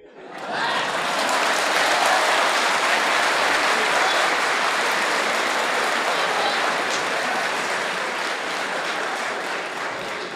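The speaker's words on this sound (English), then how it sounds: "Don't clap too much." Audience applause at a public religious debate on whether Jesus is God, a long loud wave of many hands clapping that starts abruptly and holds steady for about ten seconds, easing slightly at the end.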